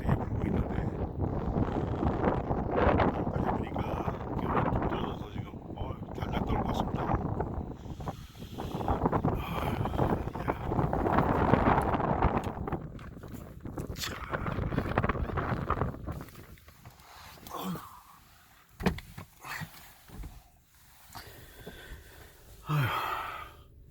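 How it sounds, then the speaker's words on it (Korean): Strong wind buffets the microphone during a boar hunt in Argentina, a heavy roaring rush that swells and gusts for most of the clip before easing into quieter, patchy gusts. "바람이 이렇게 세게 부는 건 처음이에요."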